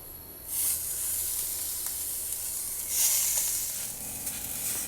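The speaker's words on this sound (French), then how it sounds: "On va commencer par faire griller les saucisses dans une poêle." Sausages grilling in a frying pan give off a steady, loud sizzle and hiss, swelling in bursts around one second and three seconds, with no talking.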